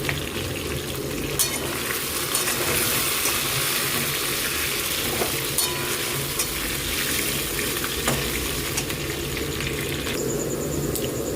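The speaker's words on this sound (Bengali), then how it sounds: "আলু ভাজা চলছে আমার" Potatoes fry in a pan with chicken for a home-cooked meat dish, a continuous hissing sizzle broken by occasional clinks and scrapes of a utensil stirring them.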